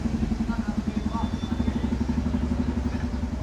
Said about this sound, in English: Or maybe it's a motorcycle. I can feel that thump,